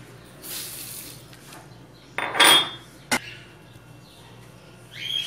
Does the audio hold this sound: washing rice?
yes